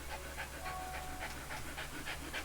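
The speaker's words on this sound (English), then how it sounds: "Oh, hello, doggy." A dog pants in rapid, even rhythm within Fire Emblem: Three Houses video game, soft and close, repeating about a dozen quick breaths over a quiet ambient bed.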